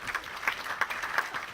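Audience at a US tax and financial services panel seminar claps for a panel member, a brief light patter of hands with soft rhythmic peaks, moderately close and short-lived.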